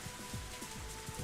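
Rain falls steadily in a visual novel game scene, a continuous wash of drops with soft low patters, alone with no voices over it.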